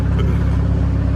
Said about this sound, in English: I'm just warming my car up now so we can go take it for a drive.